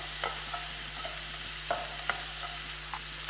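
Onions sautéing in a pan for a pizza omelette, giving a steady soft sizzle with a few sharp stirring scrapes and clinks, close by and alone with no talking.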